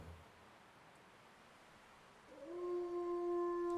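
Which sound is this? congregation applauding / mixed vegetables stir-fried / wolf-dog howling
wolf-dog howling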